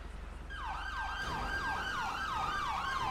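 Ambulance siren in the video game GTA 5, a loud wailing siren with repeated rising and falling sweeps starting after a moment over low background rumble.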